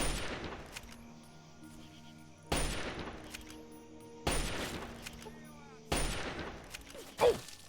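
Gunfire at an enemy in the video game Fallout 3 (Point Lookout DLC): three loud, sharp shots spaced a couple of seconds apart, each followed by a fading tail.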